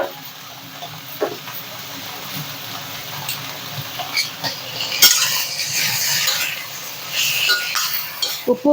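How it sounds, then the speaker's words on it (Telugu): A spoon scrapes and clinks against a pan as vegetables, freshly seasoned with salt and turmeric, are stirred, giving irregular metallic knocks and soft rustling amid a faint background hiss, with some brief talk. "ఉప్పు పసుపు వేసిన తర్వాత ఒకసారి ఇలాగ కలిపేసుకుందామండి"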